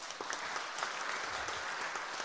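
A church congregation at a Sunday worship service applauds with a dense, steady burst of clapping, heard from a moderate distance for a couple of seconds.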